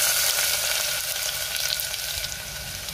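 Onion and crushed garlic sautéing in hot oil with mustard seeds and cumin in a pan for dal, a steady, close, loud sizzle with faint stirring scrapes, no talking.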